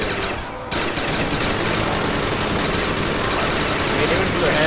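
A light machine gun in Call of Duty Zombies on Kino der Toten fires a sustained, dense stream of rapid shots, loud and close and continuous after a brief gap at the start, mixed with game noise.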